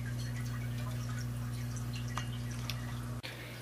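Carbon dioxide from a homemade generator bubbles inside a DIY aquarium reactor, making faint dripping pops over a steady low hum that briefly cuts out near the end.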